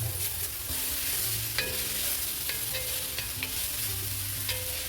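Onions and carrots sizzle in a pan for a tofu scramble, with a constant frying hiss and occasional stirring scrapes and clicks at close range, and no talk.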